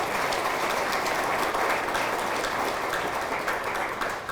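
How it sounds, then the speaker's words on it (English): Steady, dense applause from an audience at a high school athletic hall of fame induction ceremony, a continuous wash of many hands clapping at an even level throughout. "That deserves applause right there."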